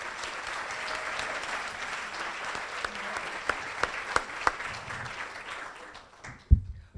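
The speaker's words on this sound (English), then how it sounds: "Would you please join me in welcoming and giving them a round of applause to all those representing our national partner teams." Audience applause for national partner teams at a Making Strides Against Breast Cancer kickoff event, a steady broad wash of many hands clapping with a few sharper claps standing out, fading near the end.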